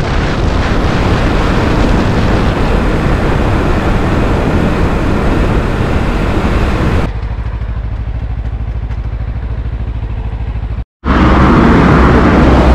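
A 2024 Yamaha R3 and a Kawasaki Ninja 300 run a drag race, engines roaring loudly and steadily up close, then dropping to a lower drone before cutting out briefly and surging back hard.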